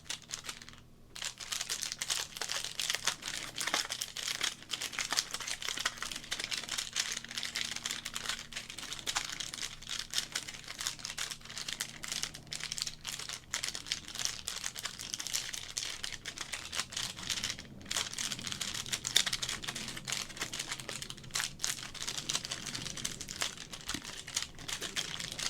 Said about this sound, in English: So, as good as the crinkles are